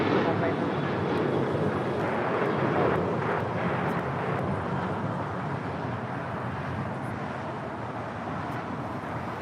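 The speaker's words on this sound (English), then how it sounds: "That was American Airlines Flight 1270 heading to Phoenix, Arizona at the 737-800." An American Airlines Boeing 737-800 jet at LAX roars loudly and steadily, a broad engine rush that holds throughout and fades slightly toward the end, with voices heard alongside.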